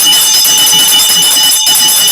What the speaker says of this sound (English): Ring the bell for that.